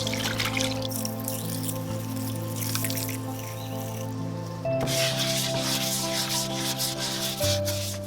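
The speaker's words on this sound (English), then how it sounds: "I'll place it in a tub of water and add dish detergent, then scrub with a soft brush." A cast iron skillet is scrubbed with a soft brush in a tub of soapy water with dish detergent, giving steady, close rubbing and swishing strokes with light wet splashes under a constant background hum.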